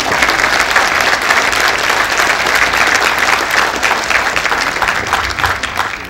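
A ceremony audience of engineers at the Consejo Departamental de Lima gives sustained, dense applause that stays steady and loud throughout, with a faint murmur from the crowd.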